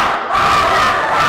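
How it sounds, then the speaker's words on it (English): Fans cheering loudly at an entrepreneurship event, a close, full burst of many voices shouting and whooping together, sustained and bright for about a second. "You're getting some cheering here,"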